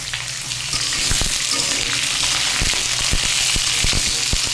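Mixed vegetables fry loudly in hot oil in a pan for a moong dal dish, a dense close sizzle broken by sharp scraping strokes of a spatula.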